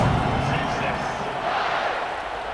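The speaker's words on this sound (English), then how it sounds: "this crowd is buzzing after that last score" A stadium crowd buzzing after a touchdown in a college football video game, a steady broad roar of many voices held at an even level under a commentator's talk.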